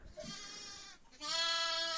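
Sheep bleat on a farm during lambing season, with a short faint call followed by a loud, drawn-out, close bleat.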